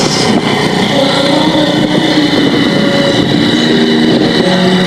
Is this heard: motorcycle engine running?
yes